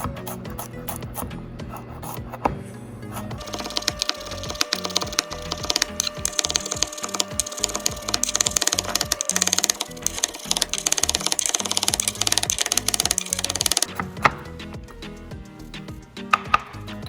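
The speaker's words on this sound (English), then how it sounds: "So we're going to chop up these things into the smallest possible pieces we can." A knife chops ingredients on a board for a portobello mushroom pizza dough, with rapid, steady close-up cuts for about ten seconds over faint background music.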